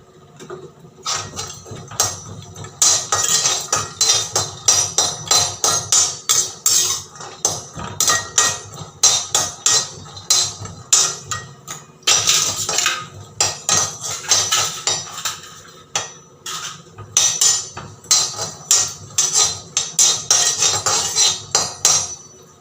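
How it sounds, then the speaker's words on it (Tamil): Cashews dry roasting in a bare pan, with dense rapid clattering and scraping of a spatula against metal in busy bursts, loud and close, with no talking. "முந்திரியும் நம்ம நெய் ஊற்றி இப்போ நம்ம வறுக்க வேண்டாம், சும்மா அப்படியே ட்ரை பேன்லேயே வறுத்தெடுக்கலாம்."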